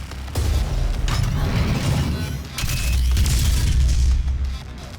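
The Cyberdemon's laser cannon shot in DOOM during an Ultra Nightmare boss fight. A loud, heavy booming blast sustains for several seconds with mechanical grinding and a brief high whine, then swells again before cutting off.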